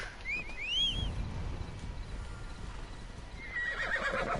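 A horse in Assassin's Creed Odyssey neighs with a rising, wavering whinny, followed by low hoof thuds and another shrill call near the end.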